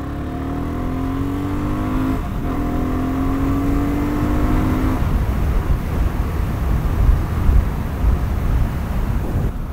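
A BSA Goldstar motorcycle engine on a country road rises in pitch as it accelerates through the gears, then settles into a loud, steady drone mixed with heavy wind rush.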